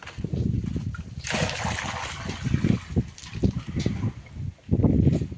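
A buffalo drinks from a bucket of water, giving a run of rhythmic sloshing, splashing gulps and slurps close by, with brief pauses between draws.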